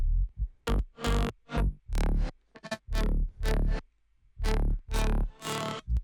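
Deep, heavy synth bass hits pulse in a stuttering rhythm, each note booming low with a brighter buzzy edge layered on top, loud and isolated.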